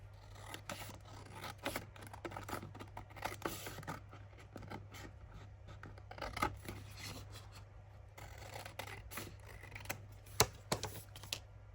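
Scissors cutting around a paper cheque book cover for a junk journal, giving a steady run of close, faint snips and rustling paper over a low constant hum, with no talking.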